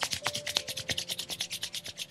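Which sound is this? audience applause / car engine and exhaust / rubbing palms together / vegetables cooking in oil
rubbing palms together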